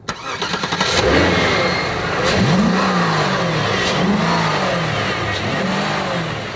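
A Cadillac 4.6-litre Northstar V8 engine revs loudly and repeatedly, the pitch climbing and falling in several throaty surges with no talking.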